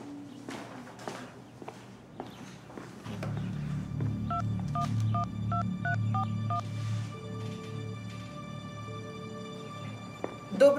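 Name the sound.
dialing a phone number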